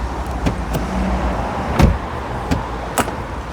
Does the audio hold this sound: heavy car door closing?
yes